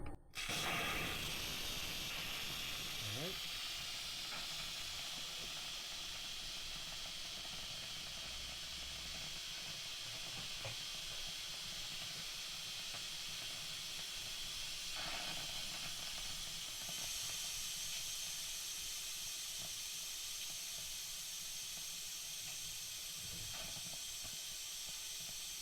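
An Instant Pot Rio 6-quart multicooker releases steam through its vent as a loud, continuous hiss that starts abruptly and holds steady without a break for over twenty seconds.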